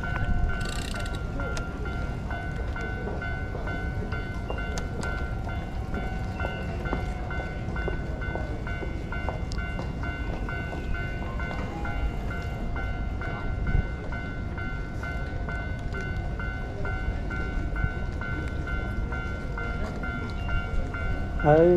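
An electric train rumbles past near a station in Japan, a continuous close, loud rolling roar with rail clatter and high whine lasting the whole stretch, heard from a roadside crossing.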